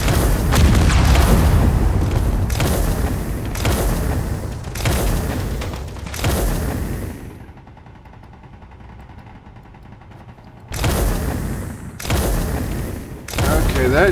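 Ship weapons fire at the player in the space game Space Engineers, a series of heavy booming blasts at a regular beat, then a quieter stretch of low rumble, then more blasts.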